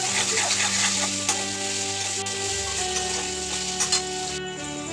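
Fish curry masala sizzles hard while being sautéed with sugar in a pan, a loud, close frying hiss broken by scraping stir strokes and small clinks, with no talking.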